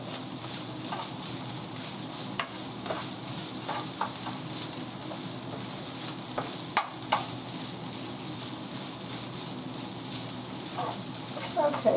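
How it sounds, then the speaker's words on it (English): Ground beef for a Tex Mex casserole sautés in a pan with a continuous close sizzle and occasional spoon clicks and scrapes, no talking heard. "so let's saute that for a minute"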